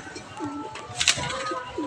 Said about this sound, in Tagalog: Pawala muna tayo ng isang ibon, mga latropa.